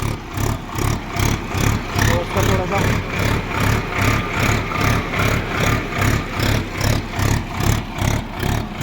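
A Sonalika tractor pulls a tota plough through a field. Its loud engine throbs in a steady, fast rhythmic pulse, and someone talks over it throughout.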